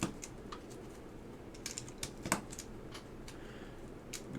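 Keycaps are pressed onto Geon F1-8x keyboard switches, Alps SKCL Green, making faint, scattered clicks and light plastic taps at an irregular pace.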